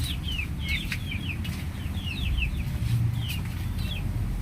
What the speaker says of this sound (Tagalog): Papakain ulit tayo ng manok.